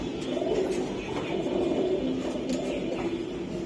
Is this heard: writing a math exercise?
no